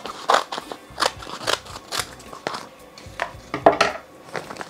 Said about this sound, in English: So I'm gonna cut out exactly how much I need of the custom fabric that we just made.